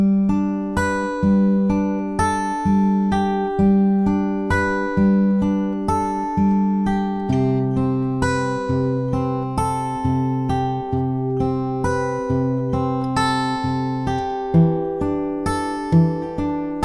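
An acoustic guitar finger-picks the verse of a song in a steady repeating pattern, close and clear, with ringing notes and no voices over it.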